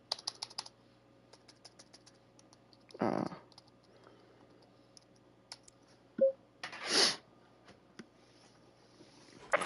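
Computer keyboard typing while entering a password during a console racing game session, a sparse run of faint, light key clicks spread across the clip, with a few louder thumps and short bursts of noise in between.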